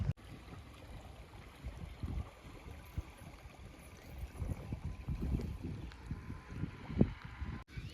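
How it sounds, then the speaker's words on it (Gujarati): Irrigation water running from a channel into a tall millet field on a Gujarat farm, a steady low gurgling wash with small splashes and occasional louder surges, close by. "હવે જવા દેવાનું છે પાણી અહીંથી બાજરીમાં."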